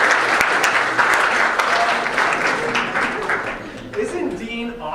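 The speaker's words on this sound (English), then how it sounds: "I always feel like giving a round of applause for Dean anytime" An audience claps and applauds for Dean at a college suicide prevention presentation, a dense burst of applause that thins and fades toward the end, with a voice talking over it.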